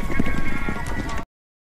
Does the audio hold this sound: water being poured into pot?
no